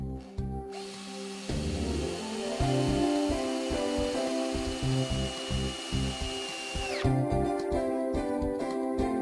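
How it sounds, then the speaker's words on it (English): A cordless drill fitted with a Phillips bit drives self-tapping screws into a pet door bracket, whirring steadily at close range before winding up in pitch and spinning down, with no voices. "use a cordless drill with a Phillips drill bit to screw the self-tapper screws in place"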